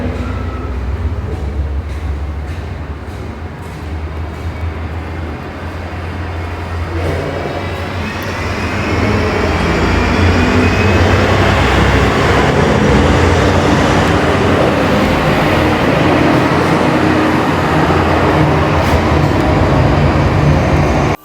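A drill bores holes for a termite chemical barrier treatment, giving a loud, continuous grinding drone that grows heavier and steadier partway through, with no voices over it.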